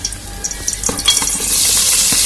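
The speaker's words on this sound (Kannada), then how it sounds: "ಎಣ್ಣೆ ಕಾದ ನಂತರ" Onions drop into hot oil in a pressure cooker with a few clicks, then a loud, steady sizzle of frying swells up and continues close by.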